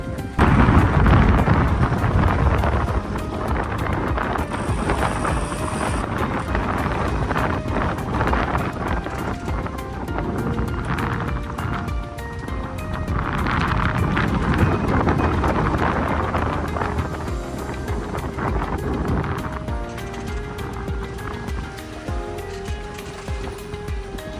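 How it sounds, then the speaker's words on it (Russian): Strong gusty wind roars and buffets steadily over open water while sailing, with gusts swelling and fading and a constant rush of noise throughout. "Сегодня сильный порывистый ветер."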